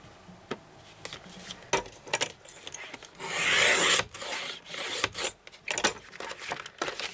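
Paper being cut for a handmade mini album: scratchy rubbing and rasping strokes with small taps and clicks, and one longer, louder swishing stroke in the middle.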